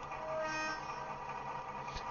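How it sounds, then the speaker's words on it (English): Short air horn blast from a model Class 43 locomotive's sound-chip speaker, a steady toned honk over the engine's running hum, heard alone without speech. "which is air horn,"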